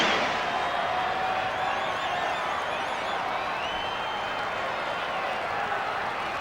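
A crowd of nearly 80,000 at Wembley applauding the Rugby League World Champions, a broad, steady roar of clapping and cheering heard from a distance throughout, with a voice talking over it.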